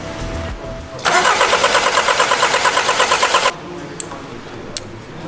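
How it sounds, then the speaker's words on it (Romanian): A VW Passat B8 1.6 TDI diesel being cranked without starting, a loud steady rhythmic starter whirr with regular pulses lasting about two and a half seconds, then cutting off to a quiet background with a couple of faint clicks. "Vrei să învârți motorul fără să-l pornești, doar să-l învârți ca să plece pompa de ulei,"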